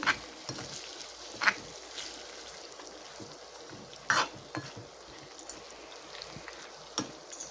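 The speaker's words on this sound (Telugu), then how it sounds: "ఇప్పుడు ఉల్లిపాయలు వేసుకోవాలండి ఇవి కూడా బాగా కలపాలి" Chopped onions fry in a pan for a brinjal curd chutney, a low sizzle under sharp metallic scrapes and clinks of stirring that come every second or two, close and without speech.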